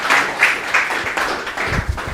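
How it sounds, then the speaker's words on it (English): An audience at a postgraduate research workshop claps, a short burst of applause with distinct claps in an uneven rhythm, moderately close and loud, and no talk over it. "A round of applause, a round of applause"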